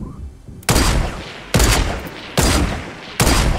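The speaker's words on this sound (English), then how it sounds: "this kid's trying to sniper me" Four loud, sharp sniper rifle blasts from Fortnite, each a sudden broadband crack trailing into a long decaying echo, spaced roughly a second apart with no talking.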